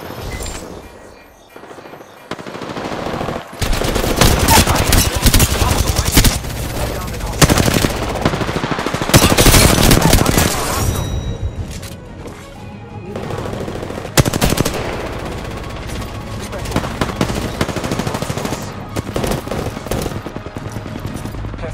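Sustained automatic gunfire from the battle royale shooter Apex Legends, dense rapid bursts running almost the whole time, loud and close, with game effects mixed in and short quieter gaps.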